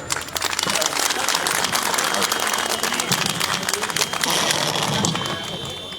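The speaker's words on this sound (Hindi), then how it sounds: "जोरदार तालियों से भानु प्रताप जी का आप स्वागत करें।" Applause at a political rally greets a speaker being called to the stage, a dense, steady wash of clapping that fills the whole stretch with crowd noise and voices mixed in.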